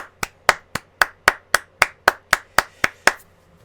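About a dozen sharp, evenly spaced claps ring out alone in a steady rhythm, crisp and close.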